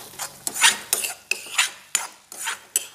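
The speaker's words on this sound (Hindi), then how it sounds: "सभी चीज़ों को मिक्स करेंगे।" Spices, chillies and green chillies being stirred together in a bowl for stuffed bottle gourd, a spoon scraping and clinking against the bowl in repeated close strokes, six or so rhythmic bursts with no talk.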